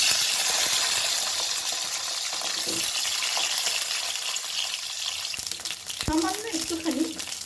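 Eggplant pieces fry in hot mustard oil in a wok, giving a steady close sizzle throughout, with a few brief clinks and stirring scrapes near the end.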